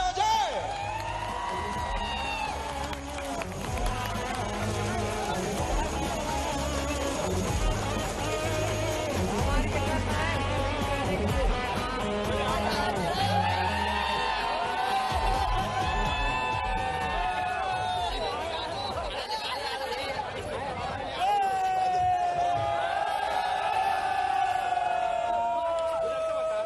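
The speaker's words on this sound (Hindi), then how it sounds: "जोरदार तालियां हो जाए" A crowd roars with cheering, whoops and applause at the Khelo India Youth Games 2022 opening in Madhya Pradesh, a dense continuous din lasting the whole stretch, with music tones threaded through it.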